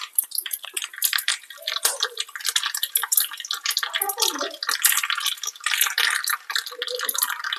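Mustard seeds, urad dal and curry leaves crackle and spit in hot oil for a chutney tempering, a dense run of sharp, rapid pops close by, with no voices over it.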